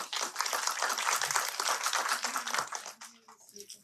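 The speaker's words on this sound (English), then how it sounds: "Give a round of applause, maybe, people." Brief applause from a screening audience at a panel discussion, a dense patter of hands that fades out after a few seconds, with faint voices as it ends.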